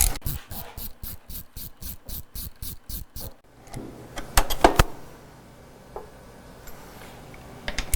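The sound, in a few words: removing shock mounting bolts with a 13mm socket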